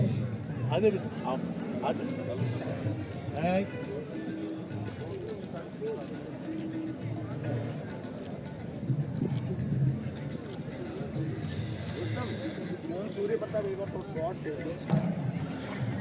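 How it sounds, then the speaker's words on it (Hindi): Marwari horses walking at the Ransi Horse Show 2024 in India, with soft hoof clip-clop and movement under a steady murmur of crowd babble and outdoor bustle throughout. "और बेहतरीन घोड़ा प्रदर्शनी के लिए जिसका नाम है सम्राट।"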